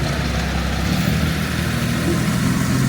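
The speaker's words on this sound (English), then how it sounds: "Yeah, garbage truck." A garbage truck idling in an alley entrance in Lincoln Park, with a loud, steady, low engine rumble that holds constant throughout, close by.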